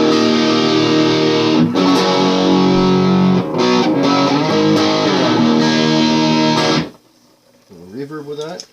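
An electric guitar plays through a distortion pedal with no other effects, sustained gritty chords ringing loud and close with a few short breaks, then the tone cuts off and softer wavering notes follow.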